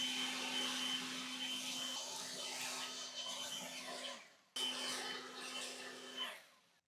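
A leaf blower clears leaves during a lawn cleanup, a steady droning whoosh with a low hum that cuts out briefly, starts again, then dies away, moderately distant.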